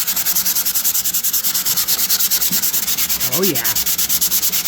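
Hand sanding a small spot on a 1954 Chevy 3100 truck, a loud, steady back-and-forth rasp in a fast even rhythm, with a brief spoken exclamation partway through.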